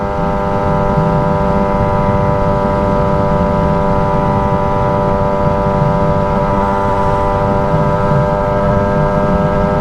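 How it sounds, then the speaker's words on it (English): A loud Yamaha R6 sport motorcycle engine with a modified loud exhaust drones steadily at cruising speed, a constant close buzzing tone with strong harmonics running unbroken throughout. "Because as you know, I made this bike very loud."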